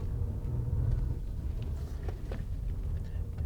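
A 2005 Acura TL driving during a handling test: steady low engine and road rumble from inside the cabin, continuous and moderately loud.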